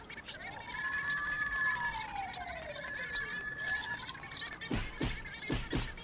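Police car siren in the video game GTA 2, a loud wailing tone sweeping up and down continuously over game noise, followed near the end by a few sharp, clipped rising chirps.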